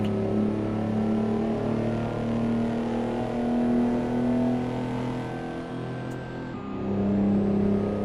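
In American Truck Simulator, an R600 truck engine revs hard toward its rev limit, a loud sustained droning roar with rising tonal whine that dips briefly as a gear changes, then climbs again.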